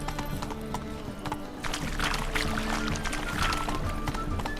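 Horse hooves clip-clop at a steady gallop in The Witcher 3, with an occasional whinny over a busy game soundscape and a faint water-like wash behind.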